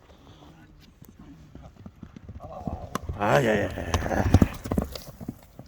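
Horses running for ulak, their hooves clip-clopping in a rapid irregular beat that swells in the second half, with a voice calling out over them.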